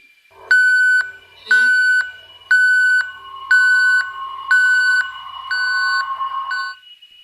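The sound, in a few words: call bell ringing, horror story sound effect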